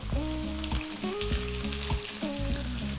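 Onion, garlic, ginger and celery fry in a single pan over high heat for Thai chicken fried rice, giving a steady close sizzle with stirring scrapes, heard alone under a tonal musical backing.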